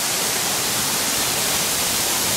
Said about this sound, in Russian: Искусственный водопад.